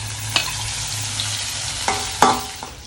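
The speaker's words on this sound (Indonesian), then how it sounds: "Lanjut menggoreng ikan kelotok alias ikan asin." Salted fish (ikan kelotok) fries in hot oil with a steady, loud sizzle, close up, broken by a few sharp clicks and scrapes of a utensil in the pan; no voices.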